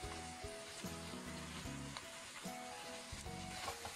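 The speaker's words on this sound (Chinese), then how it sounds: "再快速的翻炒几下" Shredded pork and garlic sprouts stir-fried in a wok with soy sauce and oyster sauce, a continuous loud sizzle with scraping spatula strokes and rhythmic tossing, close and free of talking.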